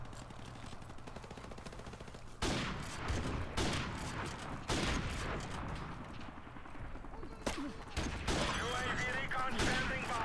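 In the game Modern Warfare Remastered, a burst of gunfire rings out as loud, sharp cracks over a noisy game mix of continuous background rumble, spaced irregularly through the clip.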